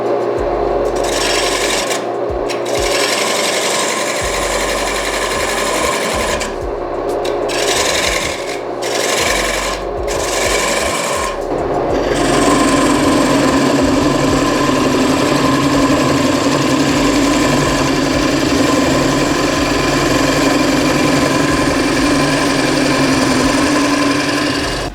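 A wood lathe hollows a green elm bowl with a continuous loud rasping scrape from the gouge, cutting in bursts at first and then running steadily, with no talk.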